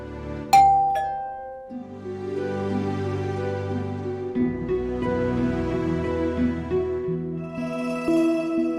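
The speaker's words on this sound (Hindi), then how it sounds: "अभी कभी भी हमारे घर की घंटी बज सकती है" A house doorbell rings with a couple of bright chime strikes near the start, followed by sustained tonal music that continues to the end.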